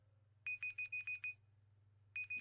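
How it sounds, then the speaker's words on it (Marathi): An electronic phone ringtone sounds close and clear in a quiet domestic room, playing one bright trilling burst of about a second before a pause and the start of another burst. "कोणाचा फोन आहे?"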